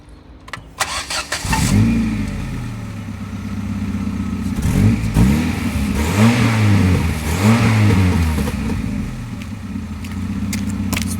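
An old Ford Escort engine fires up and settles into a loud, burbling idle, then revs repeatedly in rising and falling surges while driving, close and steady with no talking.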